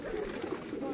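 King pigeons, large birds, coo in a short, steady low murmur that runs close and continuous through the moment.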